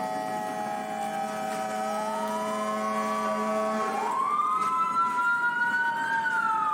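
Engine 30 fire engine siren wails steadily, its pitch rising and falling in long sweeps, fairly loud and continuous against a low hum of road and engine noise, with no talking.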